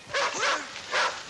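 A dog barks three times in quick succession, close and fairly loud, with short sharp yips between brief pauses.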